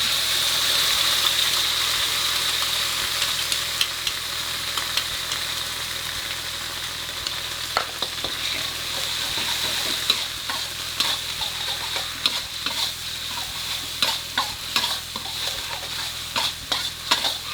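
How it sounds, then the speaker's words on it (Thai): Shrimp paste and garlic sizzle steadily in a hot pan, with frequent scrapes and clinks of a utensil stirring, and a low mechanical hum running underneath the whole time. "กะปิผัดให้หอม"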